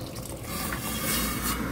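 Water is poured into a cooking pot while making watercress soup, a short, continuous splashing fill that is close and moderately loud throughout.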